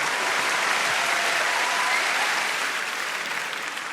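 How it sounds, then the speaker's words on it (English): Steady, dense applause from a large theatre audience at a stand-up comedy show, sustained clapping that stays loud throughout and eases slightly at the end. "Applause to our celebrities for joining in."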